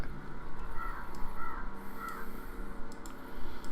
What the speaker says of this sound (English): Just love scaring away those birds.